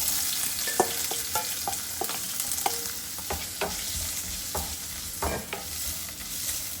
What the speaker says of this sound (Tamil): பெரிய வெங்காயம் பூண்டு இதை வந்து வதக்கிடலாம்